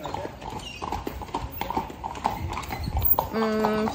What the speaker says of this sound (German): Pferde haben uns gerade fast überrumpelt.